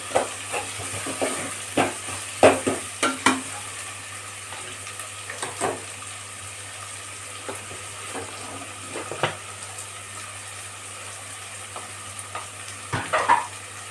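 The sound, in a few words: onions sautéing in a pan for chicken gravy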